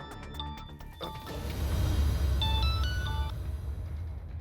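A mobile phone rings indoors with a short, quiet electronic melody of bright tonal beeps repeating over a low background hum.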